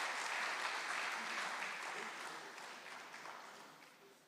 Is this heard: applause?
yes